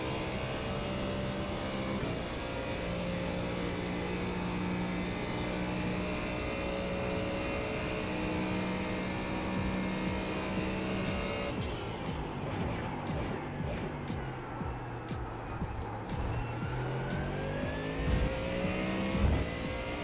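A GT3 racing car engine in a video game drones steadily at high revs around Fuji circuit, then drops and climbs again through gear changes, loud and continuous with no voices.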